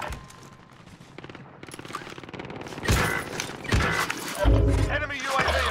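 Enemy gunfire in the video game Call of Duty: Warzone: rapid bursts of automatic fire and sharp shots build in loudness and density, with game voices and sounds underneath.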